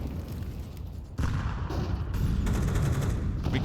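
Dense rifle gunfire in a Counter-Strike match on the Nuke map, loud continuous rattling bursts that swell after a brief break, with no clear pauses between shots.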